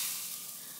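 Frying pan sprayed with Fry Light, giving a brief, steady hiss of sizzling that fades slightly over under a second, with no talking.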